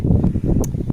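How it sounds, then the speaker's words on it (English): Steady low rumbling wind buffeting a microphone close up in a garden, gusting throughout with a brief hiss near the middle. "And sorry for the wind, I hope y'all can hear me okay. It's really windy out here."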